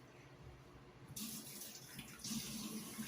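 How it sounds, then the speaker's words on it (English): Hands being washed under a running tap at a kitchen sink, the water flow starting abruptly after a quiet moment and continuing as a soft, steady splash. "Wash my hands."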